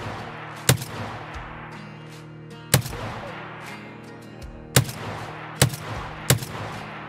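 Gunfire in Escape from Tarkov: five sharp, loud shots at uneven intervals, each cracking out and fading over a steady low background hum, with no talking.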